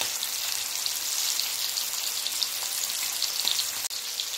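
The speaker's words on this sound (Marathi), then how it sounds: "आणि आता ह्याला इथे फ्राय करायला ठेवलंय" Wallago attu catfish frying in oil with crushed garlic, a dense, even crackling sizzle like light rain, heard close and steady, with one sharp pop near the end and no speech.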